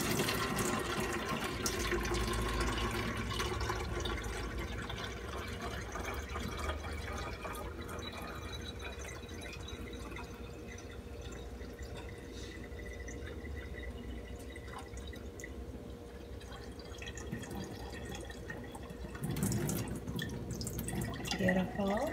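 Lemonade is poured over a kitchen sink from a container with a pour spout, a steady liquid splashing and trickling close by for about twenty seconds, with a stronger surge of pouring near the end.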